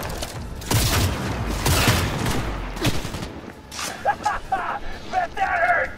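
Gunfire erupts during a Cyberpunk 2077 firefight, with several heavy booming shots in quick succession, then scattered fainter bursts while someone speaks over the action.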